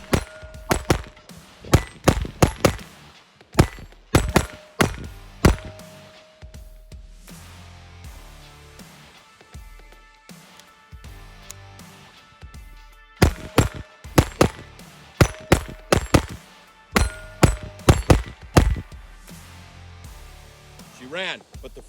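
Sharp, loud shots from a Taurus TX22 Compact .22 pistol firing CCI Mini-Mag rounds at an outdoor range, in irregular bursts of quick successive reports with pauses between strings.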